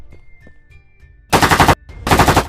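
Two loud bursts of rapid automatic gunfire, each lasting under a second, separated by a short pause over a low background hum.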